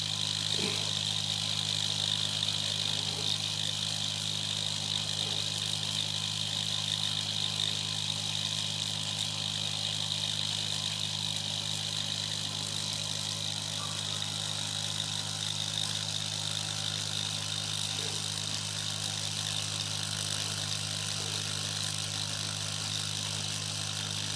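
Nano Flux twin acoustic engine, a small model engine, running with a steady, even hum and whir that holds unchanged throughout, quiet and continuous with no voices.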